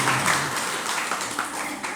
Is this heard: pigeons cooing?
no